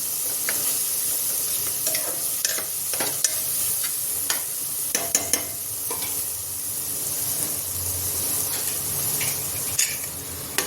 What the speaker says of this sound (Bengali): বাটি দিয়ে একটু জল দিয়ে গ্যাসের ফ্লেমটা মিডিয়ামে রেখে মশলাটা কষে নেব